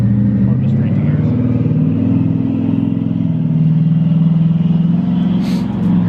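A twin-turbo Mustang engine idles steadily with a low, even rumble throughout, while people talk nearby over it.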